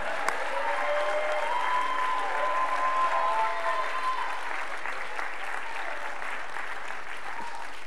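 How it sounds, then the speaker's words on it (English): A church congregation claps and cheers at a faith gathering, with sustained applause and scattered shouts rising and falling over several seconds at moderate distance. "Somebody clap your hands and shout"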